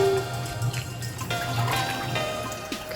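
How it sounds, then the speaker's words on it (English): Water poured out of an emptied Bath & Body Works candle jar, a steady close trickle and splash lasting the whole moment with no voices. "And then for here, I just pour out the water."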